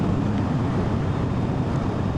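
Steady wind buffets the rider on a BMW R1250GS motorcycle crossing the open valley bend of Hartside Pass on the A686, a dense, loud roar filling the whole stretch with no talk.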